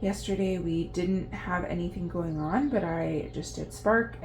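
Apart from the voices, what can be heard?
No distinct noise like a dog, phone or traffic.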